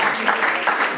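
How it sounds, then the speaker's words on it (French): Brief burst of audience clapping in a televised school quiz show, a dense rush of hands lasting about a second, with faint voices mixed in. "Est-ce que le public veut s'applaudir?"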